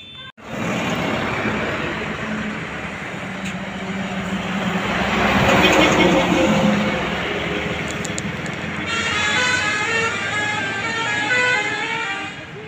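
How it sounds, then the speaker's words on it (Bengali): Continuous roadside traffic on National Highway 31, a broad steady rumble of passing vehicles close by, rising and swelling in the middle, with a horn-like tone near the end. "দেখলে আমাদের এইটা 31 নম্বর জাতীয় সড়ক"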